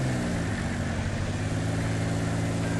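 A tank's engine in a video game rumbles steadily, a dense, constant low mechanical drone with broadband noise and no pauses, heard without talk.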